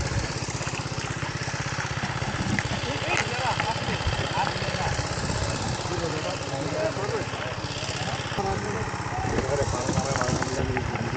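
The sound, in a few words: trawler boat engine running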